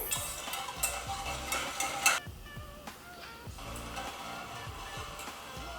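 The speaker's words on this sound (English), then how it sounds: "whisking occasionally until the mixture thickens" A whisk clicks and scrapes rhythmically against a pan of bubbling sugar syrup for a pumpkin spice latte, repeated strokes close by with a soft sizzle underneath.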